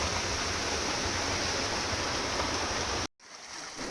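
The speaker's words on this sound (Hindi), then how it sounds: "झरने का पानी।" Waterfall in the Patalkot forest pouring continuously in a loud, dense roar that suddenly drops away near the end, leaving near silence and a faint return.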